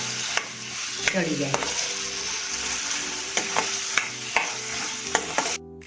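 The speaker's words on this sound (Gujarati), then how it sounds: "બસ આને હલાવી અને થોડી વાર માટે થવા દઈશું ઢાંકીને, જેથી કરીને આપણા ચણા એકદમ સરસ" A spoon stirs chickpeas cooking in a pan, bringing a steady sizzle with a few knocks and scrapes against the pan; someone speaks briefly near the end.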